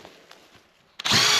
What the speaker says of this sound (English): All right, watch what happens when I drill it out.